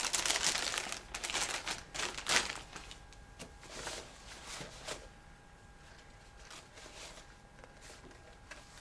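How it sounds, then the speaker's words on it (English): A plastic bag crinkles and rustles as a catheter insertion kit is opened, with louder crackling bursts at first, then softer, sparse crinkles fading under quiet room noise. "I removed the plastic bag and this is used as my garbage."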